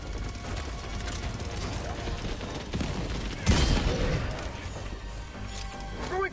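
An automated turret fires in Helldivers 2 amid battle noise, a dense mechanical rattling stream of shots with a sharper burst and impact about midway, all fairly loud over constant combat rumble.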